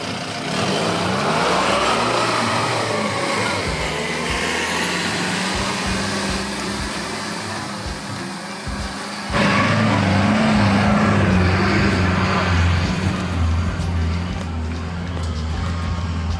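A Mahindra Roxor off-road vehicle grinds up a steep grade, its engine droning steadily and close, dipping briefly before surging louder into a harder pull, with no talking.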